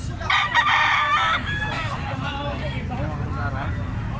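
Roosters and chickens for sale at the Carbon market in Cebu, early morning: a loud nearby crow opens, followed by further crowing and clucks over a steady crowd babble and some traffic.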